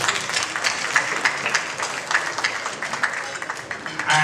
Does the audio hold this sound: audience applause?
yes